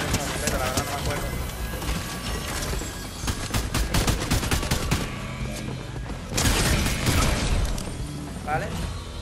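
Gunfire in the Fortnite video game, dense bursts of shots layered over constant game sound with a louder cluster of blasts near the end, dense and close.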